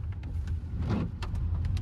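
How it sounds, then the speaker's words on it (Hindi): A Hyundai Verna's windshield wiper runs in the rain, making a repeated noisy sweep with rubbing squeaks against the glass over a low engine and road rumble inside the car. "तो वाइपर जैसे ऑन किया तो आवाज कर रहा है काफी ज्यादा।"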